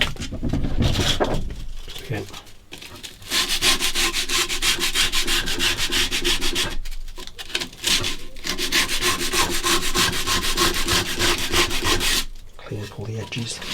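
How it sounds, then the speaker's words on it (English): Sandpaper rubbing back and forth on a wooden guitar neck during a first guitar build, in long steady scratchy strokes with short pauses, close and fairly loud, with occasional quiet talk. "I think I need to sand all these out a little bit"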